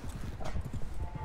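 A horse in the Red Dead Online video game clops along with steady hoofbeats, close and moderately loud amid busy game ambience, with a faint whinny-like tone near the middle.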